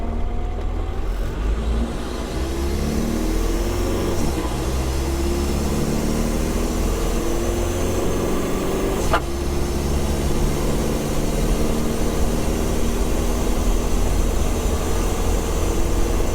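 A TDI diesel-swapped Jeep Wrangler TJ accelerates hard on a test drive, with a loud, continuous engine drone and rising whine heard from inside the cab, alongside steady road and wind roar.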